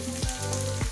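Green beans drop into sautéed onions in a hot pan for egg fried rice, producing a loud, continuous close-up sizzle with brief scraping bursts of stirring.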